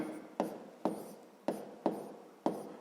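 A pen writes out a sixth-grade maths solution: five short, sharp strokes land at roughly even half-second intervals, each trailing into a faint scratch. The writing is quiet and close, with no voices.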